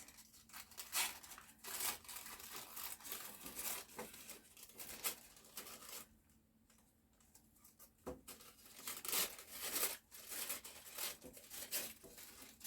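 Scissors trimming excess material from around a crafted sign, with repeated close snips and crinkling rustles coming in uneven bursts, a brief lull midway, and no voices.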